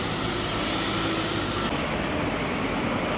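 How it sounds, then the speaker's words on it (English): Steady road traffic along a village street in Corfe Castle, Dorset, a continuous broadband rumble and hiss of passing vehicles close by, with no talk. "Sorry about the traffic noise."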